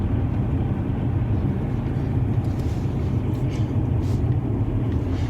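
Steady low rumble of a Lexus RX 400h hybrid SUV driving at normal speed in winter after a cold start, a constant engine and road drone heard from inside the cabin, with no talk.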